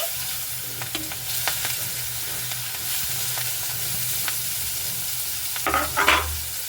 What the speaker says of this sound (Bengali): পেঁয়াজটাকে খুব ভালো মতো করে লাল লাল করে ভেজে নেব